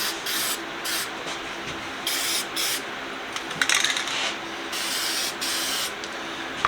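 Rust-Oleum hammered spray paint hisses onto the bottom of a vintage Columbian 143 vise in a series of short, close bursts separated by brief pauses.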